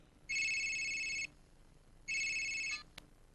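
A mobile phone rings with an electronic tone in two bursts, the first about a second long and the second shorter, close and clear against a quiet background, with a small click at the end.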